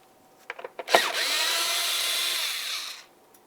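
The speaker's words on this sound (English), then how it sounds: "continue on with a Torx bit. You're going to be using a T30 to remove this bolt." A Torx T30 bit on a power tool removes a fender bolt on a 2010-2013 Ford Transit Connect, a few short clicks and then a steady, close whirring drive of about two seconds that stops abruptly.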